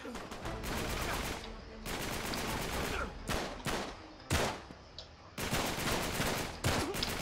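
Gunfire from the video game Uncharted 3 rattles in sustained rapid bursts broken by short pauses, loud and continuous across the clip, with no one talking.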